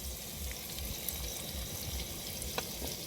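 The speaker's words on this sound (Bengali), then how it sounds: "খিচুড়ি বানানোর জন্য প্রথমে ফোড়ন ডালগুলো ভাজা করে নেবো" Spiced lentils and vegetables for khichuri sizzling in hot oil in a village kitchen, a steady soft hiss with occasional faint clinks and stirring ticks.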